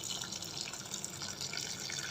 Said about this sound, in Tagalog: Dagdagan na natin ang sabaw.